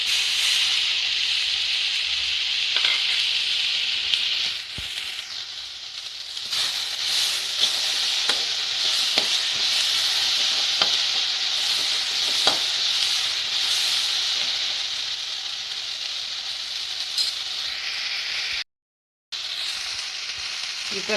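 Vegetables sautéing in a pan for a veg bread omelet, a loud continuous sizzle and hiss with occasional scraping stir clicks, close up, briefly cutting out near the end.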